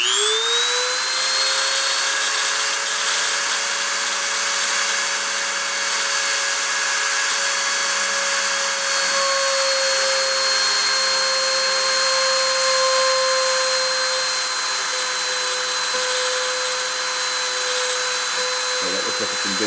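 Machine spindle spinning up to 30,000 RPM during a test: a rising whine that settles into a steady high-pitched tonal scream with harmonics, loud and continuous.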